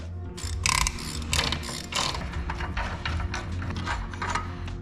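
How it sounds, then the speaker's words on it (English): The ratcheting mechanism on a Sterling 10.25 rear axle hub nut from a 1985–1997 Ford F250/F350 clicks rapidly and loudly, up close, in uneven bursts of metallic ratchet clatter with no talking. "There's that ratcheting mechanism on our hub nut."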